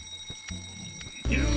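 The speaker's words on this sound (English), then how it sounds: "That's an alarm." Alarm sound in a video game, a faint repeating electronic beep pulsing about twice a second, cut off by a louder burst of game noise at the end.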